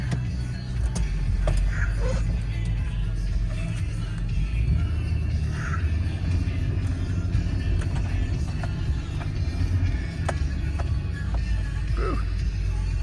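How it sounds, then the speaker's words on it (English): A 2003 Nissan Pathfinder LE climbing a hill in four-wheel drive, heard from inside the cabin as a steady, loud low engine and road rumble with faint ticks and clicks scattered throughout. "when I drive it up this hill, I put it in four-wheel drive"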